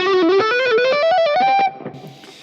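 A distorted electric guitar plays a fast, steadily climbing run of picked notes in C Lydian, seven notes on each string, loud and close, then cuts off abruptly and leaves a short fading tail.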